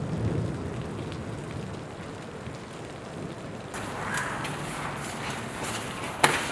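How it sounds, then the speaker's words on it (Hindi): Rain beginning to fall outdoors, a soft steady patter that thickens partway through into denser hiss, with a sharp tap near the end; no voices. "बारिश आ रही है बंटे"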